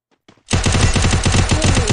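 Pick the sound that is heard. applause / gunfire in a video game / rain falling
gunfire in a video game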